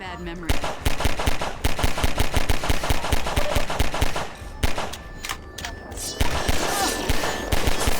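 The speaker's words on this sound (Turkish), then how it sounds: "Mermiler sekiyor mu duvardan? Sekiyormuş gibi ses geliyor çünkü." Rapid gunfire with bullets ricocheting off a wall in Half-Life 2 co-op, dense loud bursts repeating through most of the stretch, with a short lull midway and players talking underneath.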